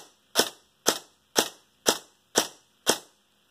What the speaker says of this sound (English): fire once on semi, turn it to full auto, and then fire a few times semi again